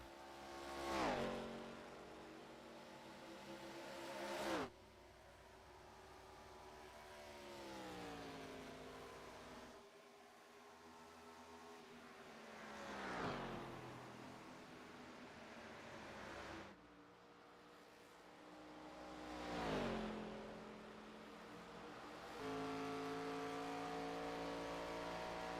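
Race cars lapping the Pocono track during a Thursday Night Nitro round, engines swelling and fading as each car passes, with several distinct pass-bys over a steady distant drone.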